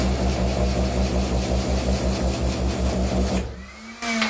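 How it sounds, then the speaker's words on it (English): Small sewing machine motor driving a ceiling-mounted camera tripod rig above a workshop table hums and whirs steadily and fairly loud, then cuts out briefly before restarting with a rising whine. "I made a little sewing machine motor on it"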